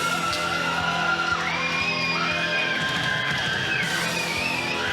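Crowd shouting and cheering at a kickboxing event fills the hall as a steady, loud roar. Walk-out music plays through it and a voice close by yells over the noise.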